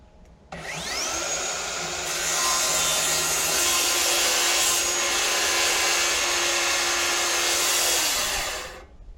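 Power tool cutting wooden pieces for a model ship build, a steady high whine that starts abruptly, runs evenly for about eight seconds, and stops, close and alone.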